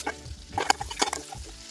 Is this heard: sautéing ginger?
yes